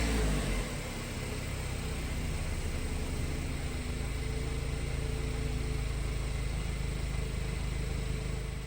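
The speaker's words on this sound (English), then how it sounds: "the engine sounds sweet on this one" A 2017 Audi A1 engine turns over and settles into a steady, even idle that runs continuously without pause.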